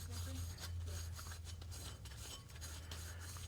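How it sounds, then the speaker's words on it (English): Abrasive Scotch-Brite pad scrubbing a used metal part, a steady close rasping rub with brief pauses and a low hum beneath, no talking. "Kind of Scotch-Brite that up a little bit like that."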